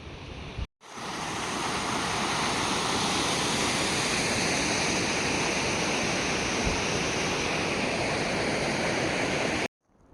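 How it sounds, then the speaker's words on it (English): A mountain waterfall in the Mammoth Lakes Basin roars as a loud, steady broadband rush close by, cutting in abruptly and stopping just as suddenly. "see if I can ride down right by the waterfall and get a good view of it"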